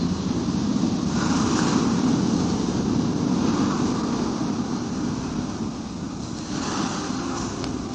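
Ocean waves and surf washing in a continuous roar with gentle swells, buffeted by wind noise on the microphone, and no voices.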